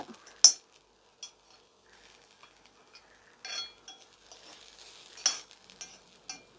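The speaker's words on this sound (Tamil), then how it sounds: "எண்ணெய் கொஞ்சம் போட்டு வதக்குங்க" Banana stem pieces being sautéed in a little oil in a pan, a faint sizzle under light stirring scrapes and occasional sharp clinks of a utensil against the pan, heard close and quiet.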